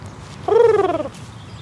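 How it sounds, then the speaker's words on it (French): A bird gives one loud, close, harmonic call lasting about half a second at dusk near a wheat field. The call sounds somewhat like a gobble, and there is no speech. "Les oiseaux chantent."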